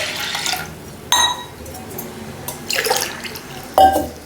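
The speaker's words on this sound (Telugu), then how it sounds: "3 గ్లాస్ వాటర్ పోసుకుందాము" Three glassfuls of water poured from a glass over washed toor dal in a pot, each a short splashing pour with a faint clink of glass, spaced apart and close by.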